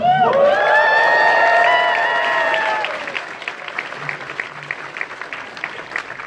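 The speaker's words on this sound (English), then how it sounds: "Thank you for knowing when to applaud." Applause at an Anime Expo panel for Lab Zero, opening under a loud sustained tonal sound that drops away after about three seconds, leaving thinner scattered clapping with some murmuring.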